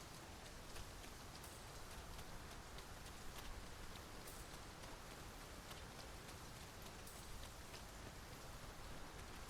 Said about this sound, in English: 'Tis raining still.